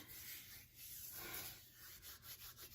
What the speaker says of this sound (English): Rub your hands real good.